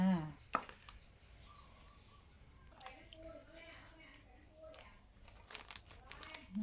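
A knife taps unevenly on a board, chopping five garlic cloves amid some crinkling, while a soft voice speaks in the background.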